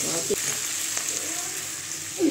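A fish head sizzling in hot oil in a pan for dal, a steady close fry hiss with a few soft stirring scrapes.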